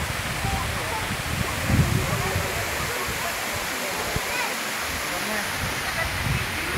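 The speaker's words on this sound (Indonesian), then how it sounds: "Tuh air terjunnya, guys." The Srigethuk waterfall in Gunung Kidul, Yogyakarta, gives a steady, dense roar of falling water that fills the whole scene without pause, with faint voices and movement around it.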